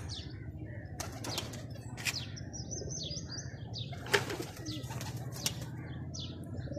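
Pigeons on a Pakistani rooftop make soft repeated bursts of wing flapping, heard close and fairly quiet over a low background murmur, with a few faint chirps and coos mixed in.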